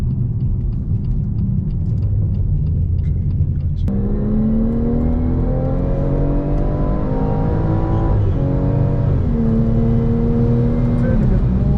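A BMW M240i accelerates hard on track at Zwartkops Raceway, its engine note climbing steadily through the revs after a shift, loud and close from inside the car with a constant rumbling road roar beneath.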